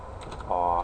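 Mechanical keys on a Razer BlackWidow Ultimate keyboard clack in a short, quick burst of close typing lasting under a second.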